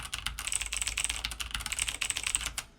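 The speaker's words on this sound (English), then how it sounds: "This one is just a brown switch, so no click." Brisk typing on a Redragon 60% mechanical keyboard with brown tactile switches, non-clicky keystrokes pattering close and fast for a couple of seconds before stopping.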